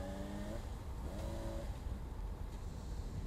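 A Honda CBR 600 RR six-speed sport motorcycle engine accelerates in a steady, low droning roar with brief rising pitch swells, fairly quiet and without talk.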